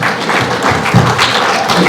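An audience at a gala event in Australia applauds, a dense, steady wash of clapping from many hands that holds throughout at close, loud level.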